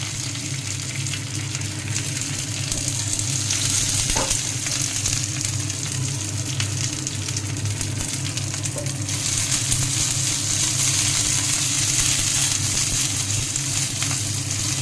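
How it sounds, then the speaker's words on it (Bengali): Curry leaves are dropped into a hot frying pan and sizzle loudly and steadily, a dense continuous crackle and hiss close to the listener, with no talking throughout. "তো আমি এর মধ্যে এবার দিয়ে দেবো হচ্ছে কারি পাতা।"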